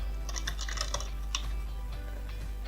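Computer keyboard typing in a short burst of quick, uneven keystrokes, close and fairly quiet, with a brief pause before a few final taps; nobody speaks.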